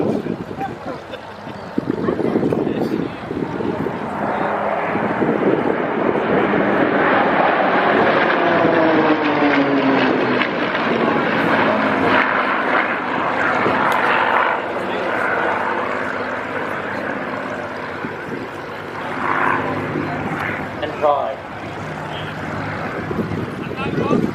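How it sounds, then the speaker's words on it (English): Spitfire PV270, a WWII fighter with a piston engine, flies a heritage flight display at an airshow. A loud, sustained engine roar rises and falls as it passes, with a voice talking over it throughout. "Spitfire PV270 is currently owned and operated by the Birkenhill Trust, but is flown today as part of the Heritage flight"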